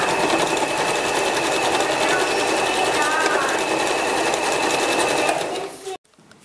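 A sewing machine stitches a quarter-inch quilt block seam with a fast, steady mechanical whir, running continuously before stopping abruptly near the end.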